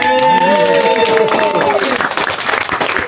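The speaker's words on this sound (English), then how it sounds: "So, round of applause!" A wedding crowd breaks into applause and cheering after a speech, clapping building quickly then thinning out over a few seconds.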